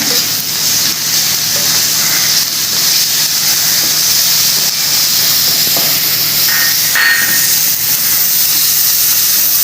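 Ginger garlic paste hits hot oil in a pan during mutton fry preparation, producing a loud, continuous hissing sizzle that stays strong and even throughout, with no voices.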